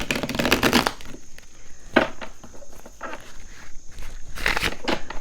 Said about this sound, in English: I'm going to try to shuffle these without destroying everything